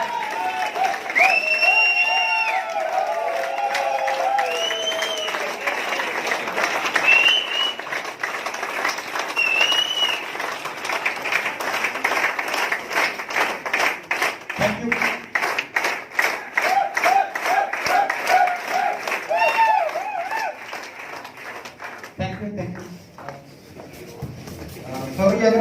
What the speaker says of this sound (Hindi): आपकी जोरदार ताली के बीच